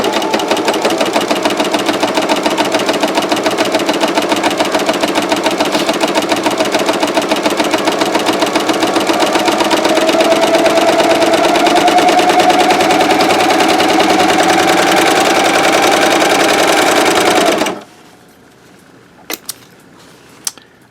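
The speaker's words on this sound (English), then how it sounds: "I'm going to start cover stitching" A Janome CoverPro 3000 sewing machine runs a cover stitch, a loud, steady rapid mechanical whirr close to the microphone that holds for about eighteen seconds, then stops abruptly, leaving near silence with a couple of small clicks.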